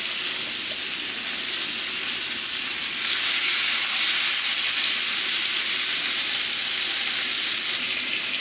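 Food sizzles loudly in a hot frying pan, giving off a continuous bright hissing crackle that holds steady and swells slightly midway, with no voices.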